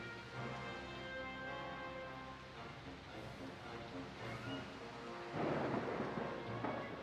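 Steady rain and low rolling thunder in the video game Jurassic Park: Operation Genesis rumble continuously at a moderate level, with the rumble swelling louder near the end.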